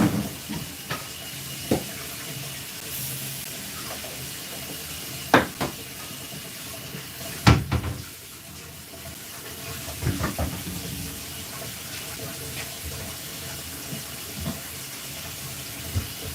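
Warm tap water running steadily at a salon sink, a constant hiss broken by a few louder splashes and clunks, with no talking.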